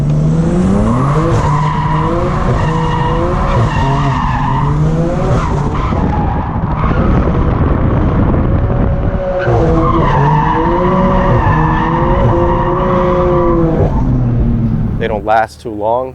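A BMW F87 M2 Competition drifts on cheap generic tires, with loud, sustained tire squeal and skidding over a revving engine in two long passes, as a voice talks over it.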